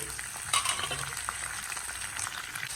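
Ginger pieces, green chillies, curry leaves and onion fry in a pan, giving a steady close sizzle with a few scraping stirs and no talk.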